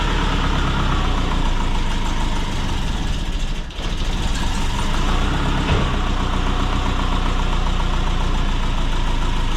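Big-turbo Subaru Forester engine running at idle on a street tune, a loud, steady, rough mechanical rumble close by with one brief dip, no talking.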